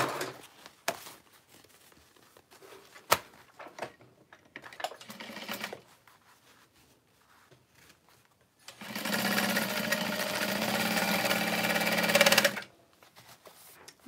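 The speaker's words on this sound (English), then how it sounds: "So I am sewing my lining just a little bit wider, the bottom half" A sewing machine stitches a handbag lining, first in a few brief clicks and short runs, then a loud steady burst of stitching lasting several seconds before stopping.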